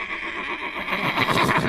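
A therapy horse gives a loud, close whinny that swells and wavers across the whole short moment, breathy and harmonically rich, with no voices.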